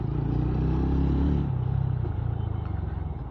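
A TVS Ronin motorcycle accelerates, its engine a steady, close rumbling drone that swells and then eases off with a slight change in pitch partway through.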